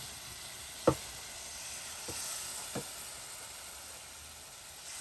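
Eggplant and onion with sauce fry in a pan, giving a steady, soft sizzle with a few sharp clicks of a utensil against the pan.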